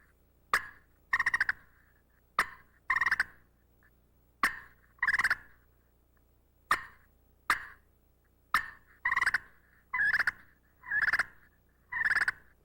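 Turkey clucks and purrs worked on a friction slate call, sharp single clucks followed by rolling purrs, repeated in short bursts with clear silent gaps between them.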